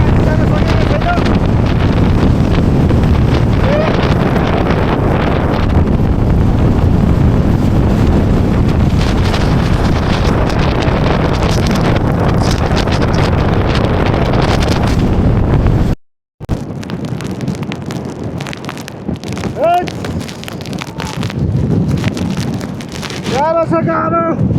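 Strong wind roars into the microphone near the snowy summit of Mam Tor, a loud continuous buffeting with a short dropout, and brief voices near the end.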